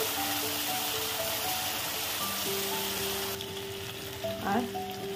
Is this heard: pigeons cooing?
no